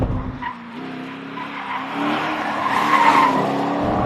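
A Nissan 240SX project car's inside tire squeals and skids under hard braking, a loud, drawn-out screech over engine noise, close and continuous.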